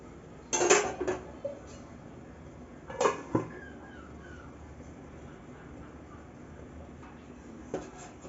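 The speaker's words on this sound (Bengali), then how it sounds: "এবার ভালো করে নেড়ে চেড়ে একটু ঢেকে দেব লাউটা আর ডালটা ভালো করে সিদ্ধ হওয়ার জন্য।" A spoon clatters against a metal pot while stirring bottle gourd and mung dal, with a few sharp clinks and scrapes, then a lid clanks down on the pot, followed by quiet simmering and one last faint tap.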